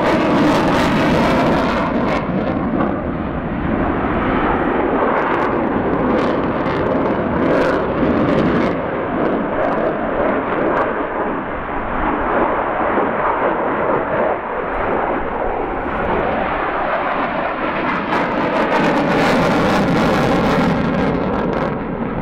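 A Ukrainian Air Force Sukhoi Su-27P fighter jet performs an air show display at RIAT 2018, its engine a loud, continuous broadband roar that swells and recedes steadily throughout.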